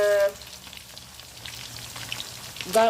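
Soto ayam ingredients frying in a pan in a home kitchen, a soft steady crackle and sizzle heard close, with brief louder clatter at the start and end.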